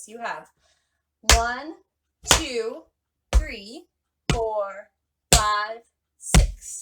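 Tap shoes strike a floor in a six-count riff, six sharp clicks spaced about a second apart, each landing with a voice counting along.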